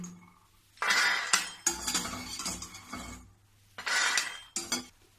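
Metal utensils clink and scrape in bursts as a makhana barfi mixture is transferred from a kadhai into another pot in a home kitchen, with short clattering runs and brief pauses between them.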